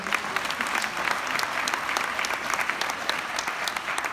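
Steady audience applause fills a community event hall in London, dense and sustained throughout with many hands clapping at once and no pause.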